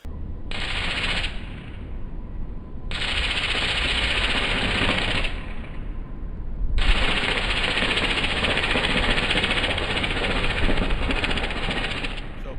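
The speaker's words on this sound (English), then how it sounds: "Now you can see that just that little bit right there, pretty good little arc with the fire hose." Electrical arcing from a downed power line through a fire hose water stream in a hotline safety demonstration: loud sustained buzzing crackle in three long bursts with short quiet gaps between them.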